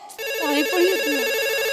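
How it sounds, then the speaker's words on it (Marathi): A phone ringtone plays loud and close during a Marathi comedy sketch on a TV stage, a steady melodic electronic ring that starts abruptly and continues without a break, with no one talking over it. "फोन वाजतोय"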